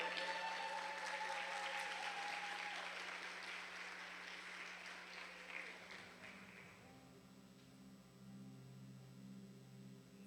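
An audience at a church gathering breaks into loud sustained applause that fades out over several seconds, leaving a low hum.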